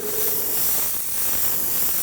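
An airbrush spraying Createx Illustration white paint for a smooth gradation, a loud, steady, close airy hiss running without break throughout.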